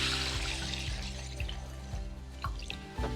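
Water poured over half a cup of washed mung beans sitting in a strainer, a close, steady splashing trickle with small dripping bursts throughout, heard alone.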